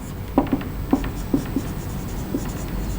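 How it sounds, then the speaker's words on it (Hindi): A pen writes an answer on paper, several short scratchy strokes and taps in uneven rhythm, close and quiet over faint room noise, with no speech. "तो हम अपना आंसर लिखेंगे"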